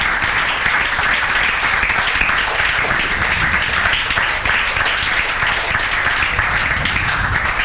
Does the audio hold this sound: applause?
yes